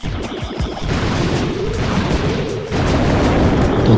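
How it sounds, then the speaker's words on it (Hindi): A Bomber character unleashes its combined abilities in a video game, a loud rumbling explosion with crackling debris that swells and stays dense for several seconds, heard close and alone. "तो कुछ ऐसा धमाका होता है भाई"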